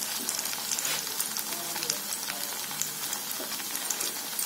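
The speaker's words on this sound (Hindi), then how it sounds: "इस तरह से साइड से हम इस पे घी इस तरह से डालते जाएंगे" Hot ghee poured in around the edges of frying malpua in a pan, giving a steady, close crackling sizzle that fills the whole clip with dense, bright spitting.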